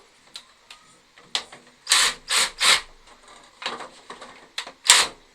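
A power drill drives screws to fix a hoop onto a children's drum kit, heard as a series of short, fairly loud whirring bursts with brief pauses between them.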